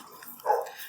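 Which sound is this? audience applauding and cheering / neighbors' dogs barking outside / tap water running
neighbors' dogs barking outside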